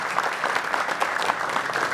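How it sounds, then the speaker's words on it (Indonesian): An audience claps steadily in a sustained round of applause at a Betawi community gathering in West Jakarta, dense and fairly close with no voices standing out. "Tepuk tangan buat Bang Korwil semua"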